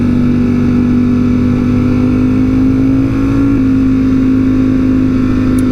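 Steady, loud drone of a Ducati StreetFighter V4S engine on a Sunday ride with a Hypermotard, holding a constant pitch with a slight shift midway, close and unbroken.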